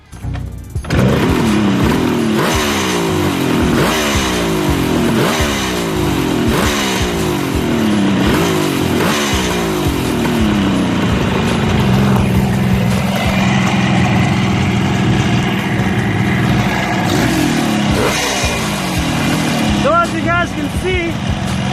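A 1972 Kawasaki H2 750 three-cylinder two-stroke motorcycle engine runs close by, blipped through several rhythmic revs before settling into a steady, ringing idle, with a brief higher whine near the end.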